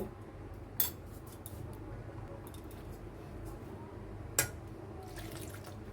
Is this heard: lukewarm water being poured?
yes